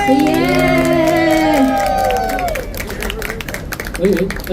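A concert crowd at an outdoor music festival claps and cheers for a band, a sustained burst of applause that rises under lingering sung or amplified tones and then settles into scattered clapping.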